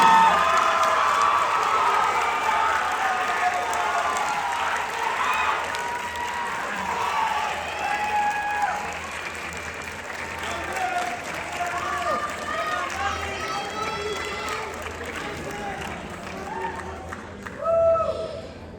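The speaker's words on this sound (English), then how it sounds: "Everyone give these recipients a round of applause." Audience applause and cheering for recipients at a band awards ceremony, sustained clapping from a crowd with whoops and shouts mixed in, while talk and voices carry through it.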